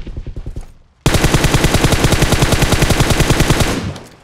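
Sustained automatic gunfire in the battle royale game BGMI during a competitive scrim firefight, a few scattered shots then a loud rapid burst of evenly spaced rounds lasting about three seconds before tapering off, with no talking.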